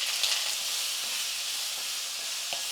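Potatoes fry in hot oil, giving a soft, steady sizzle and hiss that stays even throughout, fairly quiet, with a faint tap or two near the end.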